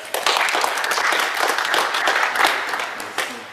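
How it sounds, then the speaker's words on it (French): Applause from a crowd at a 2016 Paris youth football tournament as a player is welcomed to his team, a steady dense patter of clapping lasting the whole stretch with a few sharper claps near the end. "On peut l'applaudir."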